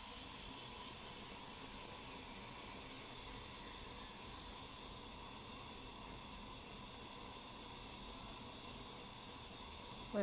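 A chili pepper on a stick roasting over a kitchen stove flame, heard as a steady, faint gas hiss and soft rushing that continues unbroken with no voices.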